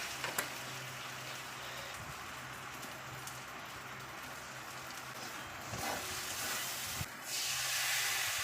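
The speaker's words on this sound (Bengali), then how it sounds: "জল দিয়ে দিলাম" Water poured into a hot pan of jackfruit and prawn curry with cooked-down spices and ghee, giving a continuous loud steamy hiss and sizzle with a few sharper bursts partway through.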